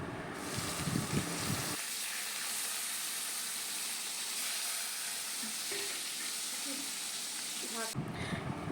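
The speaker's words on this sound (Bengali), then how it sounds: "কড়াই গরম হয়ে গেছে, এতে 4 চামচ তেল দিয়ে দিচ্ছি মাছ ভাজার জন্য" Ar fish fries in hot oil in a wok, giving a steady, loud sizzle and hiss that lasts several seconds, with brief clatter at the start and end.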